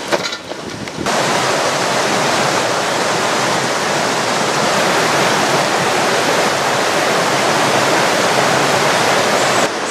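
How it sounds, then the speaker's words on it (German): A clear Black Forest mountain stream rushes steadily and loudly close by, a constant broadband wash of flowing water that runs almost the whole time after a quiet first second, with no talking. "Hier vor mir fließt der Bach und hier fließt das klare, frische Schwarzwaldwasser."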